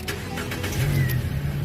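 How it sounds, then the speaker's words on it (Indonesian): A Nissan Grand Livina 1.5 Highway Star automatic from 2013 starts up, its engine catching and settling into a steady low idle hum close by, with no talk over it. "Sekarang kita coba nyalakan mobil."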